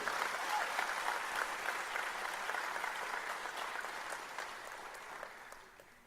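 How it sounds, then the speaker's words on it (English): Graduation ceremony audience applauding lecturers, a steady wash of clapping heard at a distance and fairly faint, fading out toward the end. "A round of applause, please, for all our lecturers for taking us through online learning."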